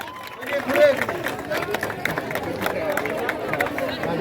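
An outdoor crowd at a Republic Day football tournament claps in a sustained patter of applause, mixed with steady chatter and voices throughout.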